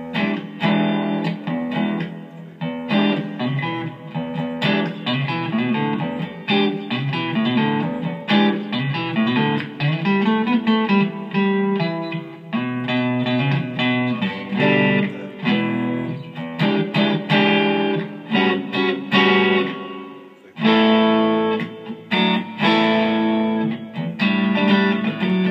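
Electric guitar played through a Yamaha THR10 amp on a crunch preset with hall reverb, with lightly distorted chords and single-note lines ringing out continuously and reverb tails between phrases.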